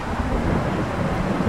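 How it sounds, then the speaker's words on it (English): Rain and rolling thunder from the weather in the farming game Farming Simulator 22, a steady dense rumble and hiss that holds at even loudness throughout, with no voices over it. "Oh, we got rain."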